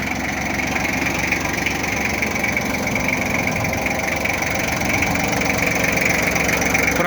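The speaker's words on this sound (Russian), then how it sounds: "Трактор агрегатирован трехцилиндровым дизельным двигателем. Как вы слышите, работает он мягко" A three-cylinder diesel engine on an Iseki TS3910TC tractor idles steadily and smoothly, a continuous close, even rumble with a faint knocking texture, running alone without any talk.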